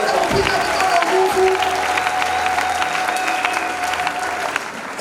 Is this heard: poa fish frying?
no